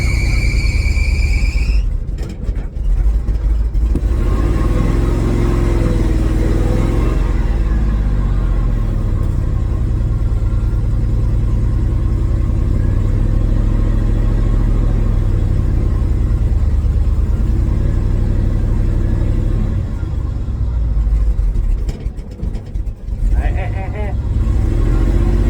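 A truck engine rumbles steadily at close range with a low, continuous drone, brief revving near the start and voices talking over it.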